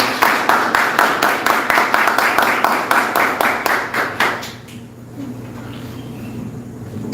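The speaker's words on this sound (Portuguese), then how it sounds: "E uma salva de palmas para ele." A church congregation claps in a steady, rhythmic beat for about four seconds, loud and close, then the clapping stops and low room noise remains.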